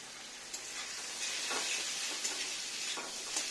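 Taro pieces sizzle steadily in a hot pan with soy sauce, a continuous broadband frying hiss with a few soft stirring clicks, close and unbroken, with no voices.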